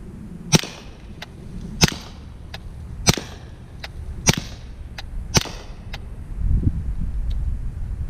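Fiocchi 165-grain 9mm subsonic rounds fire one after another in a string of about five fairly even shots. Each one is a sharp, fairly muted crack with short ringing echoes, and a low rumble rises near the end.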